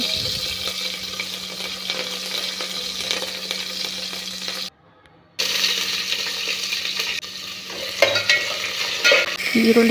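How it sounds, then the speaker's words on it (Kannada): Mustard seeds, curry leaves and onion fry in oil in a pot on a gas stove, a close, lively sizzle with stirring scrapes and a short silent break midway. "ಒಲೆ ಮೇಲೆ ಪಾತ್ರೆಗೆ ಎಣ್ಣೆ ಬಿಟ್ಟು ಅದಕ್ಕೆ ಸಾಸಿವೆ, ಕರಿಬೇವಿನ ಸೊಪ್ಪು, ಈರುಳ್ಳಿ"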